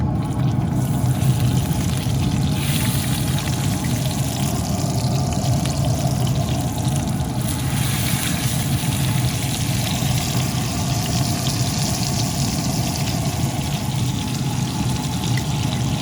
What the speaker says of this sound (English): the oil and butter have heated up and melted good. Time to transfer the chops into the pan.